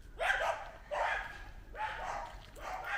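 A dog barks in four spaced, even bursts, close and fairly loud, with no talking over it.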